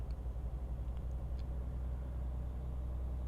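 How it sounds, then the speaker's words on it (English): A truck engine in the video game Euro Truck Simulator 2 hums low and steady, a continuous droning rumble with no voices over it. "Sounds quite nice, this truck."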